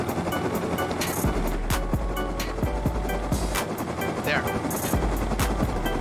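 A Rust helicopter's rotor thumps rhythmically and loudly, with repeated low whooping beats under steady engine noise and bursts of gunfire clatter, while players talk over it.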